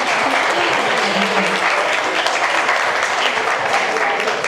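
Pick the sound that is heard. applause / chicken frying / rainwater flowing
applause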